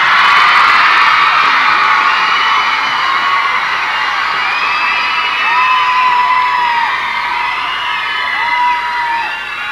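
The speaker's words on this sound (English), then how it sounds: "You guys have got a great cheer squad here tonight." A large audience at a 1995 Rock Eisteddfod school performance event cheers loudly, with whoops and high shouts from many young voices, sustained and dense throughout without a break.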